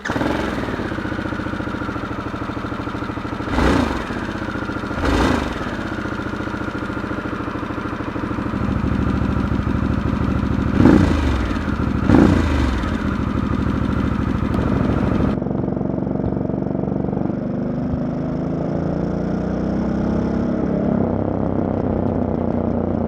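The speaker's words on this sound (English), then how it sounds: "This changes the sound and the pitch of the exhaust tone." A Harley-Davidson Sportster S with a Dr. Jekill & Mr. Hyde aftermarket exhaust idles with a deep, throbbing exhaust tone, occasionally revved in short bursts, then settles into a lower, quieter rumble.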